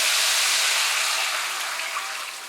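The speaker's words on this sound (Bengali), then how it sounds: "এবারে এর মধ্যে আমি দিয়ে দিচ্ছি জল।" Water poured into a pan of hilsa fish curry base, a steady hissing splash that runs the whole moment and slowly tapers, close and alone with no talk.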